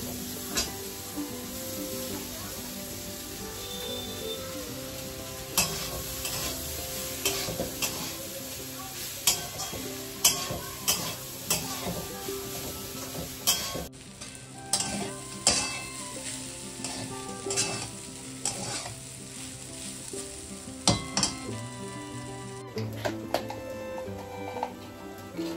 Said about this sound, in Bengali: এই যে কিনোয়াগুলো কালকে সেদ্ধ করে রেখেছিলাম, তো সেগুলোকে এখন সেগুলো দিয়ে দেবো।